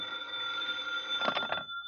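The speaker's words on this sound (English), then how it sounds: "Lieutenant Clark had been on the phone for half the afternoon, and I was in his office at 5 when it rang again." A vintage telephone bell ringing in an office scene of an old radio drama, a sustained metallic ring with a rattling burst near the end, heard alone over steady broadcast hiss.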